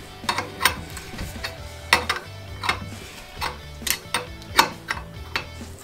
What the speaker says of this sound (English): Should always screw in by hand to start and finish with our Maxflo